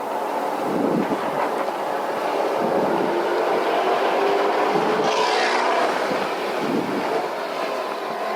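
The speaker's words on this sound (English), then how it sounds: "Man, that Camaro sounds pretty badass." Chevrolet Camaro engine roaring on a racetrack, a steady loud drone heard from inside another car with heavy wind rush throughout.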